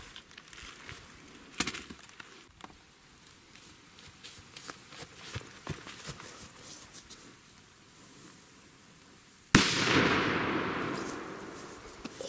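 Tropic TP2 firecrackers: scattered small pops and crackles, then one sudden loud, close bang near the end, followed by a long rumbling decay, with no talking.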